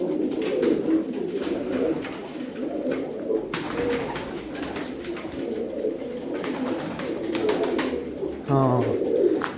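Low, rolling coos from Donk breed pigeons in a loft, steady and overlapping from several birds, with scattered flutters and clicks and faint voices in the background.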